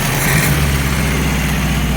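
A Ford Escort MK3 GLE engine idles a bit high, a steady, close, slightly rough hum with a faint rattle in it.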